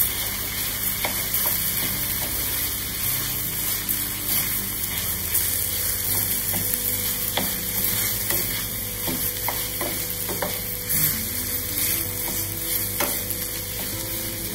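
Rice being stirred into a saffron-seasoned filling for stuffed squid in a sizzling pan, with a continuous frying hiss and repeated close scrapes and knocks of the spoon.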